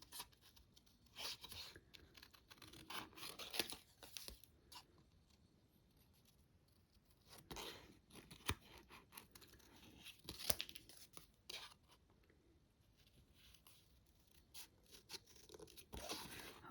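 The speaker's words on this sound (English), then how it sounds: "Remember to move your paper and not your scissors." Paper being cut with scissors around a stamped dahlia design gives soft, scattered crunching snips in irregular bursts with pauses, faint and close.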